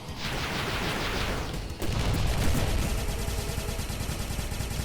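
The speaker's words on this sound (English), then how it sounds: "Just fire some gun rounds at him." Aircraft guns in the flight combat game Sky Rogue fire in continuous rapid bursts, loud and close, with a short break midway before the rattling stream resumes amid engine roar.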